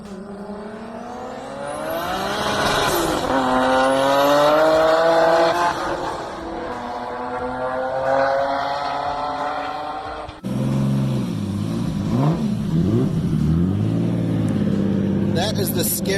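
2JZ-swapped Scion FRS race car driven on the street, its engine loud and close with rising and falling revs through gear changes, then a harsh lower-pitched rev at the end.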